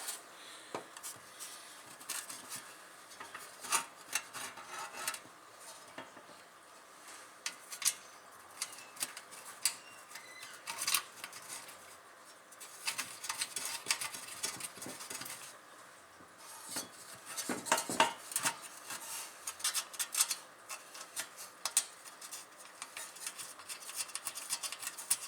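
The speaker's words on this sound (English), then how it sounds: "We'll flip it over and reinstall our screws." Screws going back into an old 5 horsepower Briggs and Stratton recoil starter: faint, scattered metallic clicks, taps and scrapes of a screwdriver and parts, irregular and close, with no talking.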